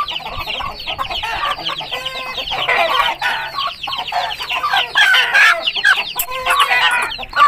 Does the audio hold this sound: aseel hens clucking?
yes